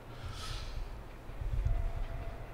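Train in the video game A-Train 9 rolling along, a faint continuous rumble with soft rail clatter and a brief hiss, steady throughout.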